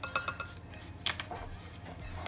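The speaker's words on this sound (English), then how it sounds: "I need 3 teaspoons of baking powder for this recipe, so I'll just scoop it and level it off" A metal measuring spoon scoops and levels baking powder for cornbread muffins, giving a few light clinks and scrapes against the container, quiet and close, with no talking.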